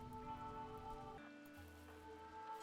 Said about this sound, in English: At least it's raining.